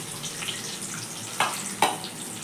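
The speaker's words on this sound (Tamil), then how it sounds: "எண்ணெய் ஊற்றி கடாயில் வெந்தயம் சீரகம் போட்டு தாளிச்சு வெங்காயம் பச்சை மிளகாயெல்லாம் போட்டு நல்லா வதக்கி" Onions and green chillies sautéing in hot oil in a kadai, a continuous sizzle with two sharper spatula scrapes near the end, close and alone.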